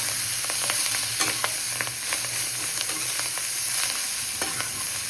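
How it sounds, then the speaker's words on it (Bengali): Fenugreek leaves and potato fried in oil with dried red chilli, salt and turmeric, stirred steadily: a constant loud sizzle with a low hum beneath and scattered scraping clicks of the spatula throughout, no talk. "বেশ কিছুক্ষণ ধরে ঢাকা দিয়ে দিয়ে ভেজে নিলাম।"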